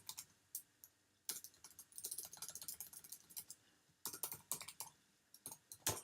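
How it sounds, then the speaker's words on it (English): Quiet clacking of keys on a computer keyboard, in two quick bursts of typing separated by a short pause, with no talking. "Let's type in myself."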